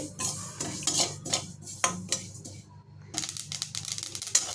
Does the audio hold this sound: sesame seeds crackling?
yes